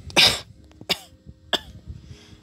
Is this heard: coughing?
yes